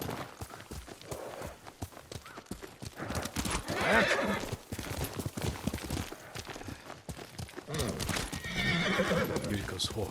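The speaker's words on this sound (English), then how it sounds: "Yuriko's horse" Yuriko's horse in Ghost of Tsushima neighs loudly and clops nearby, two strong bursts of whinnying over shuffling hooves, with a voice speaking around them.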